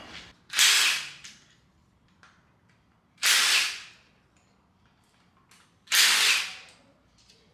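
Removing the camshaft thrust plate bolts from a fresh 5.3L LMF V8 during teardown: three loud, sharp bursts of an impact tool, each lasting about half a second, separated by quiet pauses with faint clinks between, close to the mic.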